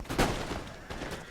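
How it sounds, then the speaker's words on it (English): Cavalry fire a musket volley in Empire Total War, a burst of crackling shots close together in a short fusillade, moderately loud with echoing rumble trailing after. "Nice volley."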